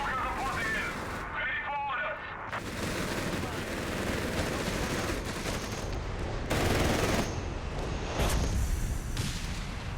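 Mortar and small-arms fire in Company of Heroes 3 on the Mignano Gap map, a steady rumble of distant blasts and crackling gunfire with no pauses, rising into louder bursts toward the end.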